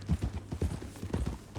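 Horse hooves clip-clop in Red Dead Redemption 2 at a steady walking rhythm, with dull, close, evenly spaced thuds over a low ambient hum.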